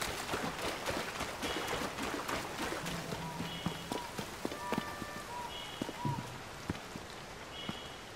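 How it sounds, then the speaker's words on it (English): Soft, continuous rainfall patters over the wetlands in Zelda: Tears of the Kingdom, with scattered clicks, footsteps and brief chiming game tones layered over the steady hiss. "it's perpetually raining over here"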